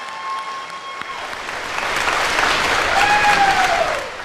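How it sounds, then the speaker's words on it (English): A crowd applauds graduates at a Northland college commencement in Thief River Falls, the clapping swelling after the first second and holding strong before easing slightly, with a few high whistles rising above it. "Let's start this evening with a round of applause for our graduates."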